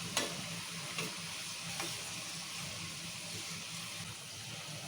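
Okra pakoda fry in hot oil with a dense, even sizzle, broken by a few sharp clinks and scrapes as the fritters are turned over, close and steady without speech.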